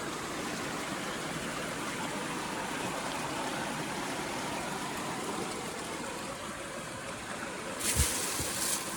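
A river flows steadily nearby at a camping stop on a 4x4 off-road trip, making a soft, continuous rushing wash with a brief knock near the end.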